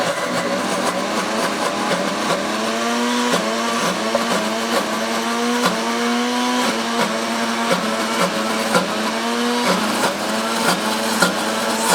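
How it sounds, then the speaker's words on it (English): Ninja Foodi blender running steadily on medium speed blending herb pesto with olive oil, a loud continuous motor whir with rhythmic pulsing surges as the blades churn the mixture, no talking over it. "I'm gonna go ahead and go back on the blend on medium"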